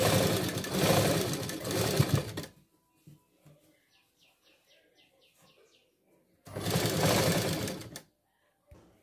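Sewing machine stitching a lined blouse, two loud, close runs of rapid mechanical whirring separated by a quiet pause with faint handling sounds.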